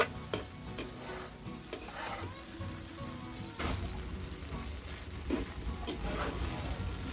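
Egg fried rice being stirred and mixed in a hot pan gives soft scraping strokes and occasional spatula clinks over a low, steady sizzle, close up and without talk.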